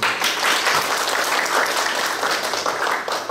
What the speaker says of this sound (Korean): 신길섭 비주얼봄 대표님께 다시 한번 박수 부탁드리겠습니다